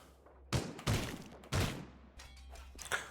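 Pistol shots fired in the VR game Hellsweeper VR, three loud close bangs in quick succession followed by fainter clatter and smaller impacts.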